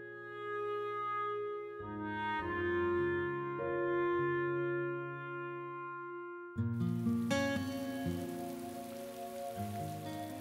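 Rain falls as a steady hiss, rising into a fuller downpour partway through, mixed beneath sustained tonal music that shifts in pitch.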